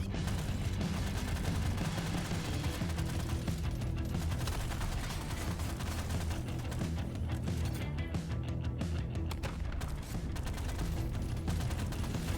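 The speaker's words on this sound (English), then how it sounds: "I've got a butt machine gun." Continuous machine gun fire in Deep Rock Galactic: Survivor, a steady, dense rattle running throughout at an even, moderate level with mechanical clatter mixed in.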